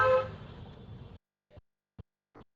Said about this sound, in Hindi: वो हॉर्न बजा रहे हैं कि शायद अब गाड़ी रुक जाएगा